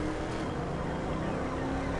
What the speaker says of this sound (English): And you notice the engine not shutting off.